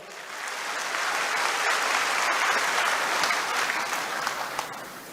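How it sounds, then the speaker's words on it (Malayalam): Audience at a BJP political rally in Thiruvananthapuram breaking into loud, sustained clapping that swells within a second and holds as a dense wash of applause from a large crowd. "ഉച്ചത്തിലൊരു കയ്യടി കൊടുത്ത് നമുക്ക് തുടങ്ങാം."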